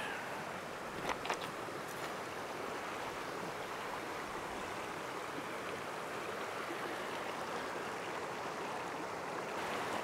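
Bear Creek, the outflow of Big Bear Lake near its meeting with the Santa Ana River, flowing as a steady, even rush of stream water, faint and continuous, with no talk.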